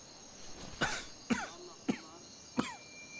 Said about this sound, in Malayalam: എന്താളിയാ, ഭയങ്കര ചുമയാണല്ലോ